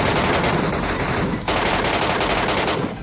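Rapid automatic gunfire in a shooter video game, a dense, loud, continuous burst lasting about three seconds with a brief break in the middle.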